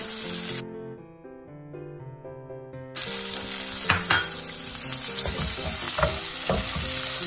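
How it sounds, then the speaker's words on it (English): Onion hitting a hot pan with browning garlic sizzles loudly and steadily, joined by intermittent stirring and scraping, with a tonal hum underneath during the first few seconds. "So while our garlic is turning a little brown, I'm adding onion to the pan."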